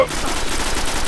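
Dense, continuous gunfire in a Destiny player-versus-player Clash match on Xbox One, a loud rattling barrage filling the whole moment without pause, with no voices over it.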